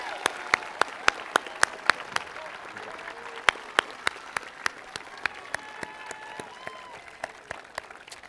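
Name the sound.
audience applause at high school graduation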